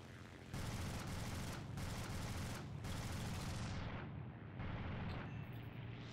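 Aircraft machine guns firing in the air-combat game War Thunder, loud rapid continuous bursts broken by a few short pauses.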